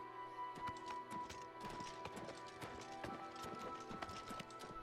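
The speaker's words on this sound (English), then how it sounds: "he's just riding his horse" Horse hooves clip-clop at a steady walking rhythm in the video game Oblivion Remastered, close and distinct over a quiet background with a faint sustained tone, and no talking.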